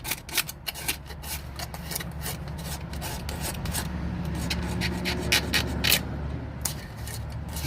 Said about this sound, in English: So I'm just going to give this gasket a bit of a clean up, this surface.